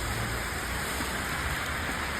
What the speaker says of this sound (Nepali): कस्तो डेन्जर पानी परिरहेको